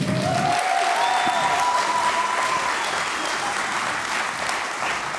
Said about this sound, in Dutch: mag ik een hartelijk applaus voor de Brainworks Academy Lichting 2019